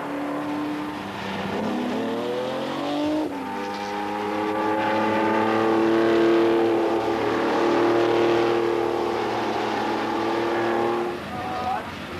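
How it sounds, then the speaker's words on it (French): Historic rally cars at the 1994 Tour Auto are driven flat out, engines revving hard and climbing through the gears with a sharp shift partway, loud and close over a dozen seconds, with a voice talking over them. "Ils ne ménagent pas la mécanique pied au plancher, quelle que soit la valeur de la voiture."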